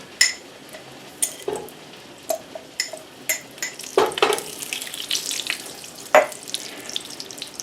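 Clarified butter in a pan over a hot, fast wood fire gives soft sizzling and a series of scattered crackles and pops. The sound is fairly quiet and close, with no talking.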